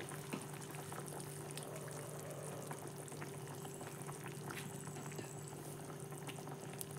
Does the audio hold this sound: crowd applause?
no